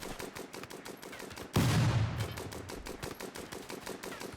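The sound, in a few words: Vulcan cannon minigun turret firing in video game Rimworld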